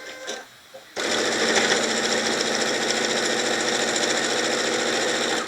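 Sewing machine running steadily while stitching a quarter-inch seam on a quilt block, starting abruptly after a second of quieter handling noise and continuing as a loud, even whir to the end.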